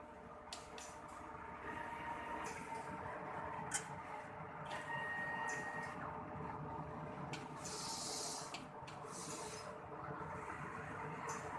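An inkjet printer prints a nozzle check test after head cleaning, giving off faint, soft mechanical whirring and shuffling with short bursts of print-head movement and paper feed over a low background hiss. No one speaks.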